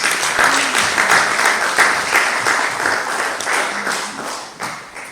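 A church congregation applauds at a pastor's birthday celebration in Portland, Maine, steady loud clapping for about five seconds, easing slightly at the end.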